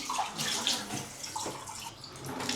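Vytautas mineral water runs steadily from a tap, a continuous splashing gush filling the space at close range, with no voices over it.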